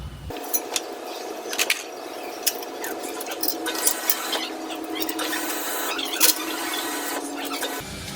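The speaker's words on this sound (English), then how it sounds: "that is the water pump that goes on every time you turn on the water inside the house" A household water pump in a house in Thailand hums steadily in the background, with light clattering and rubbing sounds scattered over it.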